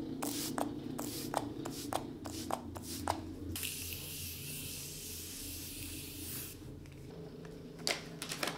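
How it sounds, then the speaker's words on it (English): A face setting spray hisses in a sustained burst of mist, preceded by a series of short, sharp clicks and taps from handling the bottle, close and fairly quiet. "I'm going to spray the face."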